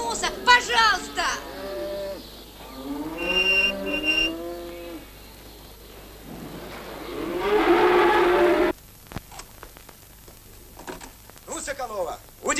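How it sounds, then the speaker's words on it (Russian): A cow lows several times amid a rural scene from a 1939 film, long drawn-out moos mixed with voices and a loud noisy passage. "Пелагея, загонь мою корову-то"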